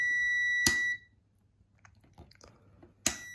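A multimeter continuity tester beeps steadily on a closed circuit while testing a switch, a loud, pure electronic tone that cuts off, followed by quiet handling clicks, then a second sharp beep onset at the end.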